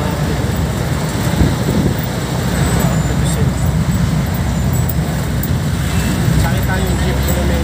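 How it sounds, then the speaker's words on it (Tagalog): A steady, loud rumble of traffic and engine noise from inside a moving jeepney on a city road, with people talking over it throughout. "At dito na tayo sa jeep mga karibil."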